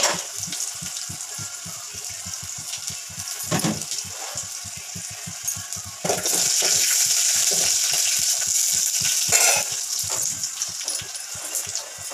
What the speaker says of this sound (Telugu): పల్లీలు, జీలకర్ర, పచ్చిమిరపకాయలు బాగా వేగిపోయినాయి